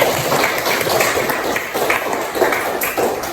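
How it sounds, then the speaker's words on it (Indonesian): Classroom of students applauds briefly, a soft dense patter of clapping that stays fairly even, with no talking over it. "tepuk tangan untuk kalian semua"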